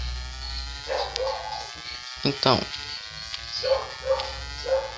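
A dog inside a house barks in short, repeated bursts at middle distance, mixed with an electronic buzz and a person's brief speech.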